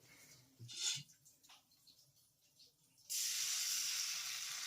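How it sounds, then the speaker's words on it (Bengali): Bengali pitha rice cakes drop into hot oil, and a faint, steady frying hiss rises suddenly after some quiet handling noises and soft clinks. "আর এই পিঠাগুলো ভাজতে কিন্তু একদমই সময় লাগবে না"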